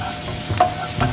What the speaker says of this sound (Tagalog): pag mainit yung mantika, mag-i-start na tayo mag-isa nung bawang